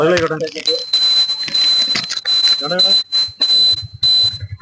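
A high-pitched electronic vehicle indicator flasher buzzer beeps in a steady repeating pattern under someone talking nearby.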